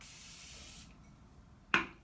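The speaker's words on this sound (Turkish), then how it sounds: "Sprey çok ince ve bu iyi bir şey." Hair spray from an aerosol can, a soft faint hiss at first, then one short sharp spray burst near the end, no talking.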